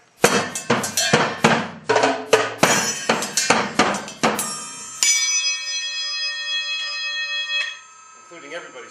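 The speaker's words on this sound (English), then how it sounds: "this is the percussion rack" Gongs on a percussion gong rack are struck about a dozen times in a quick irregular run of bright metallic hits, then one final stroke rings out with a long shimmering sustain that gradually fades.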